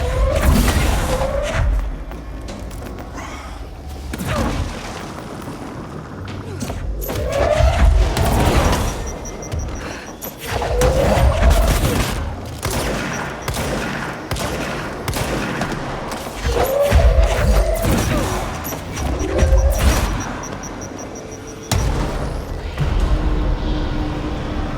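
Gunfire aimed at the player in the action game Control, repeated bursts of loud, sharp shots and thuds in clusters over a sustained fight, with short gaps between volleys.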